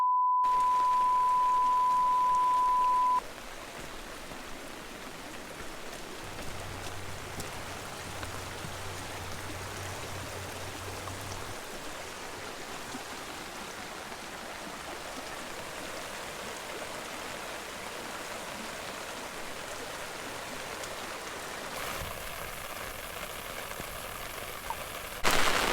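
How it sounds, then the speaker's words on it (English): Steady rain falls at Yellowstone's Trout Lake, a continuous close hiss of drops that fills the whole stretch, with a short beep tone at the start and no voices. "we're gonna wait here until it stops raining"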